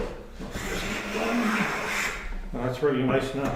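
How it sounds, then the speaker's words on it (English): A hand plane shaves a wooden board edge to edge, giving a sustained broadband rasping swish that carries through most of the stroke, with someone talking over it near the end. "It's hand planing from edge to edge on the board."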